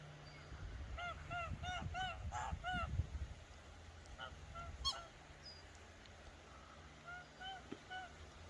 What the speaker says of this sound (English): Oh, that's why the geese are there.